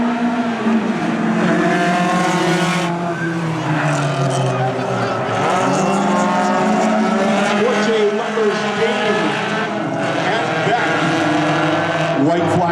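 Hornet class race cars roar around a track in a pack, engines rising and falling as they pass close by, with a loud announcer talking over the continuous engine noise.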